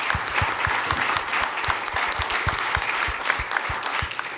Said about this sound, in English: So maybe another clap.